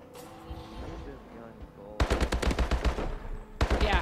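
A gold camo gun fires at a firing range in the video game Advanced Warfare: rapid automatic bursts of loud, punchy shots, a long burst followed by a short one after a brief pause.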